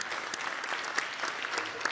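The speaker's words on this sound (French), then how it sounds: "est-ce qu'on peut avoir un bon applaudissement" Applause from an audience thanking a team at a French-language forum welcome session, a steady, moderately loud patter of many hands clapping throughout with no voices over it.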